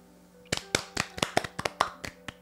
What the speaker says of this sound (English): let's give a round of applause for Wench, shall we?